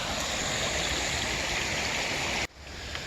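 Creek water flows steadily under a bridge at Mosquito Creek, a dense, close rushing wash that drops abruptly to a quieter flow near the end.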